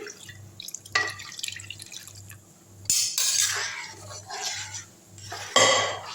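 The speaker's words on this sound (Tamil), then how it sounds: "தண்ணி கொஞ்சம் ஊற்றிக்கலாம்" Water is poured into a pot of home-cooked sambar, with splashing, dripping bursts and clinks of a metal vessel over a soft rhythmic background hum, close and fairly quiet.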